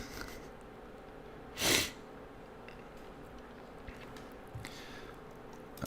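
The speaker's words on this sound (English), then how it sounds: "What, sneezing?" One short, sharp sneeze bursts out once against a quiet background hum, then the room settles back to near silence.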